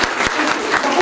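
Brief applause from an audience at a Hindi book launch ceremony, a short burst of clapping with distinct claps mixed with a speaking voice.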